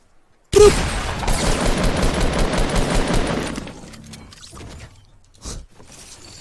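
Rapid automatic gunfire in the Fortnite Battle Royale video game, a loud sustained burst lasting about three seconds, then trailing off into scattered fainter shots and a final sharp report.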